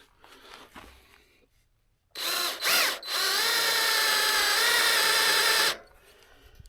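A cordless battery drill whirs up in two short bursts, then runs steadily at high speed for about three seconds before stopping, loud and close near a sawmill, with faint handling noise before it.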